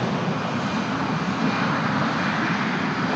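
A jet airliner coming in to land at San Francisco Airport gives a steady, loud, broad engine roar close by, holding level without a break.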